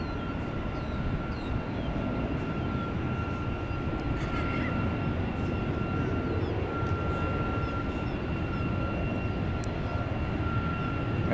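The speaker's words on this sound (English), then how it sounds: "They're revving up the engines." A steady, distant roar of Southwest jet aircraft engines revving up at Tampa airport, droning evenly throughout with a faint tonal whine on top.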